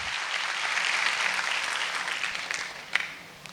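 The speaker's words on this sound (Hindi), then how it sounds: "तो एक बार जोरदार ताली बुंदेलखंड के लिए, बुंदेलखंड के लोगों के लिए, बुंदेली भाषा के लिए।" Audience applause at a Bundelkhand talent honours event, a steady wash of clapping from a crowd that swells, then thins into a few scattered louder claps toward the end.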